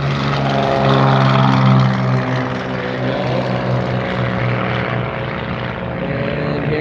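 Propeller airplane taking off at an air show, a loud droning engine with steady harmonic hum that swells early and then holds fairly close.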